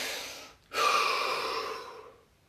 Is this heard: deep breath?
yes